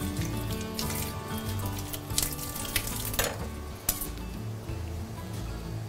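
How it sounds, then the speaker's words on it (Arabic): Knives are washed in a kitchen sink under running water, a steady splash with scattered clinks and clatters of metal against the basin, close and fairly busy throughout. "نغسل السكاكين مالتنا"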